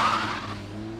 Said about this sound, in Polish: Chcieli zapytać jedno auto o wywrotkę, ale odjechało z piskiem opony